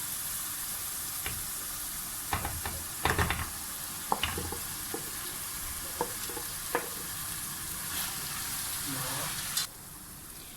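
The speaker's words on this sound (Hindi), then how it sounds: "अब हम इसके अंदर भिंडियाँ शामिल कर देंगे जो हमने फ्राई करके रखी हुई।" Fried okra (bhindi) stirred into a thick tomato paste in a pan for bhindi salan gives a steady close sizzle broken by scattered scraping clinks of a spoon against the pan, before the sizzle suddenly drops away near the end.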